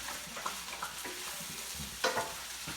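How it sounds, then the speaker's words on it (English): Corn pasta is stirred in a pot with a few soft scraping strokes over a quiet, faint sizzle. "We're going to give it one quick stir."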